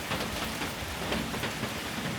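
Steady, dense rain pours outside during typhoon winds in Japan, a continuous hiss of drops on surfaces with no pauses and no voices.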